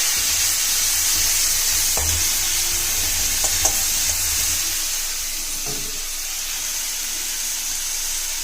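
Mushrooms fry in a pan with turmeric and chili powder, giving a steady close sizzle throughout, broken by a few scraping stirs and light knocks of the utensil.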